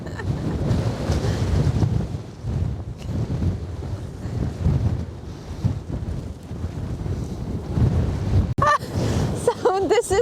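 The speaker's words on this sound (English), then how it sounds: "So this is the steam" Steam from a geothermal vent on Iceland's Reykjanes Peninsula roars and hisses continuously in strong wind, with heavy wind buffeting on the microphone throughout and a brief sharp disturbance near the end.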